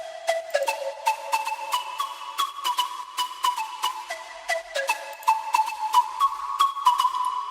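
Pure sine-wave synth tones from a Serum oscillator glide and step between pitches in a quick melodic sequence, clean and bright, with no voices.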